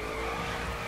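A Koenigsegg Agera R drifts in the video game The Crew, its tires squealing in a loud, steady screech over the engine's drone for a brief moment.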